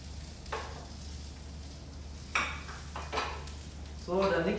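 Salmon frying in a pan, a soft steady sizzle beneath low hum, broken by a few clinks of a utensil against the pan and a louder scrape near the end.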